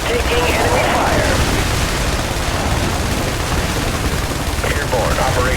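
Sustained gunfire and battle noise in the military strategy video game IS Defense, a dense, loud wash of shots and explosions throughout, with faint radio-style voice callouts rising briefly near the start and end.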